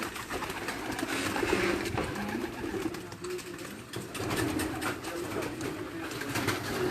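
Champion breed pigeons cooing in a loft, soft repeated coos rising and falling close by over a busy background of rustling and faint voices.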